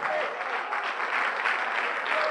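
A church congregation claps together in steady, dense applause that carries on without a break through the whole moment, moderately loud and fairly even in level.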